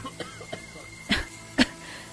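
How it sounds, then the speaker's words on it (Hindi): A woman gives two short, sharp coughs about half a second apart, fairly close, with faint murmuring and small sounds between them. "इस खांसी ने तो मेरी जान ही ले ली है।"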